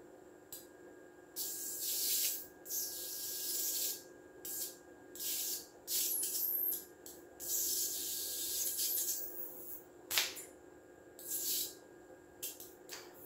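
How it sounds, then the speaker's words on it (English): Tesla coil sparks jumping to a tin can produce bursts of hissing, crackling discharge, each lasting about a second, repeated in an irregular rhythm over a steady background hum. "I'm just going to zoom in to the tin can so we can try to see those sparks more easily"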